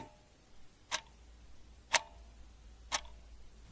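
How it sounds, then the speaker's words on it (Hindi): A wall clock's second hand ticking, three sharp isolated clicks spaced one second apart over a faint steady hiss, close and clear. "हमारी घड़ी में टिक टाक की जो आवाज होती है वो इसी के चलने की होती है।"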